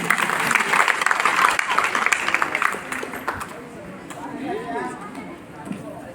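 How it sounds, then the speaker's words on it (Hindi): An audience claps loudly in a sustained burst of applause that fades after about three seconds into quieter crowd murmur, with a voice speaking over it. "एक बार जोरदार ताली फिर से।"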